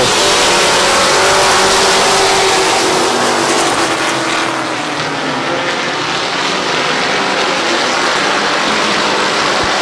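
Race cars roar around the oval at Midvale Speedway, a loud continuous blend of several engines at full throttle with a rising and falling pitch as the pack passes.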